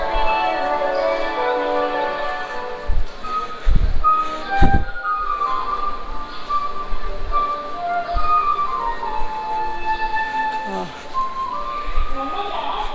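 Busy Indian railway platform with a train standing nearby, a steady crowd hum, clanks and rumbling throughout, and someone talking close to the microphone over the station bustle.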